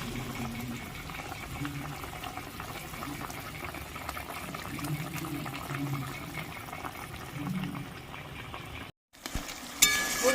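Crab curry gravy simmering in a pan, a soft steady bubbling and gurgle with faint low burbles throughout, close and quiet, cut by a brief drop near the end and a small clatter after.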